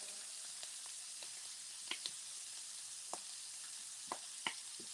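Shrimp frying in butter in a pan for shrimp scampi, a soft continuous sizzle with scattered small pops and crackles spaced irregularly, close and without talk.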